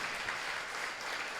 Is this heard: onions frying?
no